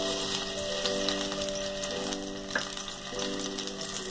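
Ginger garlic paste sizzles and fries in hot oil in a pan, a steady close crackling hiss with no talking.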